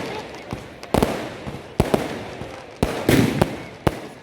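New Year's Day fireworks bursting in a continuous barrage, irregular loud cracks and booms, some near and sharp, others duller, with people talking over them.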